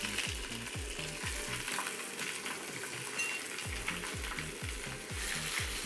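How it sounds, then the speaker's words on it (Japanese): Cut bamboo shoots stir-frying in hot sesame oil over high heat, a steady loud sizzle with repeated scraping stirs of a utensil against the pan, briefly quieter in the middle before the rhythmic stirring resumes. "で油温まったらまず切ったたけのこ炒めていきます。"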